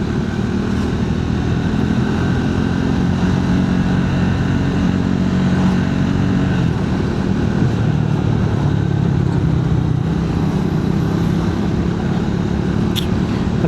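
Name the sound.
Triumph Speed 400 motorcycle riding on Indian roads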